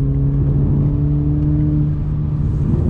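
A 2021 Toyota Supra with the 2.0-litre four-cylinder turbo pulls out to pass another car, its engine a steady, loud droning hum with a sustained tone and road noise, heard from inside the cabin with no talking.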